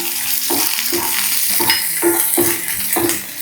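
Spring onions and garlic frying in a pan, a steady close sizzle with repeated stirring scrapes roughly every half second, no talk.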